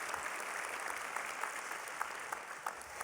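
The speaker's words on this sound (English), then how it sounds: "Round of applause for our chefs." An audience at a culinary event applauds chefs with steady, fairly faint clapping throughout, with a few sharper claps standing out near the end.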